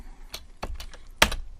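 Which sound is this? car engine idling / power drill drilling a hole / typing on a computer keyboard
typing on a computer keyboard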